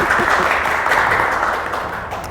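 Audience applause at a fashion brand conference in Seoul, a steady dense wash of clapping that holds level then tapers slightly, with no voices over it.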